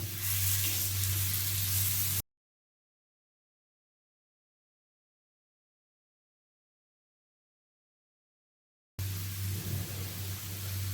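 Food frying in a hot pan in a home kitchen, cooked on one side before turning: a steady, loud sizzling hiss that drops into a long silence before resuming.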